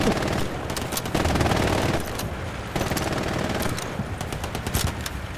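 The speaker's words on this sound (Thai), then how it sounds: "ปืนกล MG42" An MG42 machine gun in the Hell Let Loose shooter rattles out long, dense, continuous bursts, loud and close, with brief gaps between strings of rapid fire.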